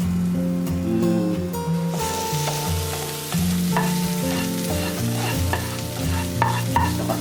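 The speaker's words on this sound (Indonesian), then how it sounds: "Sekarang kita tumis yang bawang merah, bawang putih tuh" Shallots and garlic sizzle steadily in a couple of tablespoons of hot oil while being stirred, with a close, continuous frying hiss and occasional scraping of a utensil against the pan.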